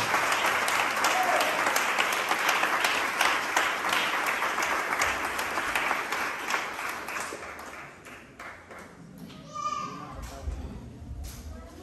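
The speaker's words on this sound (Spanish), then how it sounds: "¿Qué tal si le invitamos a un fuerte aplauso a ellos en esta hermosa hora" Applause for a couple at a Christian wedding ring ceremony, a full room clapping steadily for about eight seconds before fading, with voices and children heard beneath and after it.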